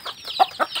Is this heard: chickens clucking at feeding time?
yes